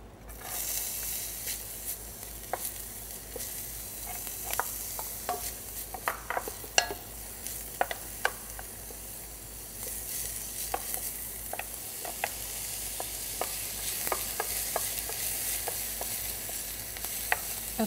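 Onions fry in a pan, a steady soft sizzle overlaid with scattered sharp crackles and spatula scrapes, fairly close and without any talk over it.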